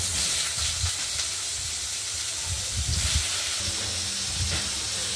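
Oil heating in a wok before ridge gourd is added, a constant close hiss and sizzle with a low rumbling undertone, steady throughout.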